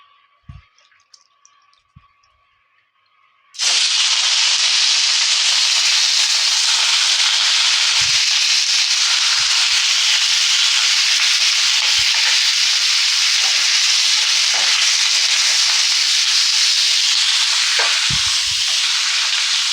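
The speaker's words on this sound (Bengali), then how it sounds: "অল্প একটু তেল দিয়ে এবার আলুটা ভেজে নিচ্ছি।" Potatoes sizzle loudly in a little hot oil, a steady bright hiss that starts abruptly after a few quiet seconds of faint clinks and continues without pause.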